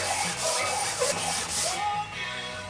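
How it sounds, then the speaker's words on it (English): Metal being lapped by hand on sandpaper laid over a granite stone, with close, rhythmic rasping strokes, about five back-and-forth rubs in quick succession. "I use my granite stone more for paper lap than anything else."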